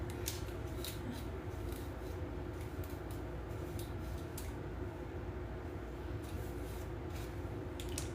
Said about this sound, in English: you can trim tiny pieces at a time